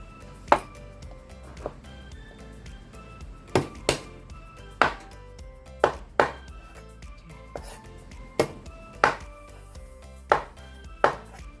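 Knife blade crushing and chopping deveined shrimp on a cutting board for pork cabbage rolls: about a dozen sharp, close thuds in an irregular rhythm, alone with no talk.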